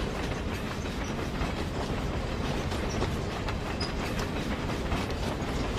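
A moving train rolls steadily along the rails with continuous rumbling and faint clickety-clack, a dense, even noise throughout with no voices.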